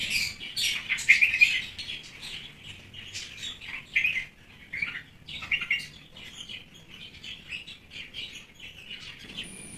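Baby birds chirp in a nest built in a money plant, a busy cluster of high, thin cheeps and tweets coming in bursts, close and fairly loud, with no voices.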